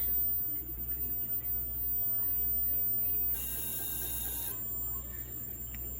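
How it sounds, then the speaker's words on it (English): A stepper motor moving 200 steps gives a faint mechanical whir for about a second, set against a low steady hum and quiet room noise. "Now we can take motor 1, move it 200 steps."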